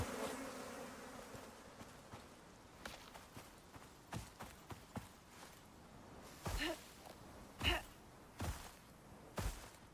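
Bees buzz in the survival video game Icarus under a string of sharp footstep-like thuds and clicks. The hum is faint and constant, with louder impacts bunching toward the end.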